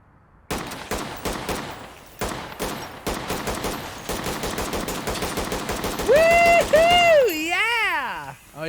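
Gunfire tearing through a parking lot of new cars in the video game Ready or Not: loud rapid bursts and single shots in steady succession, with rising and falling car alarm wails near the end.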